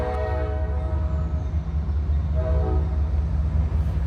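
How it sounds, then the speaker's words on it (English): A train rumbles low and steady with a sustained horn blast sounding from a distance, its tone shifting slightly partway through. "like that train in the distance"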